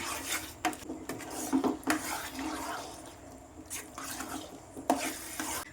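Bread halwa mixed with ghee in a pan, giving soft rasping scrapes and stirring strokes in irregular bursts, close and moderately quiet, with a few sharper knocks of the spoon.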